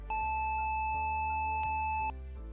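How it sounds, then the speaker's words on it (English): An Atari 2600 game produces a high-pitched, recorder-like electronic tone, sounded as a series of sustained buzzy notes separated by short breaks, loud and alone. "Sounds 12 and 13 are a high-pitched tone,"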